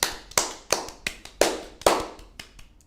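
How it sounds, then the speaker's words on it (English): A handful of sharp claps ring out at close range in a podcast studio, spaced unevenly over about three seconds rather than forming full applause, with no talking. "Round of applause for Beauty and the Beast"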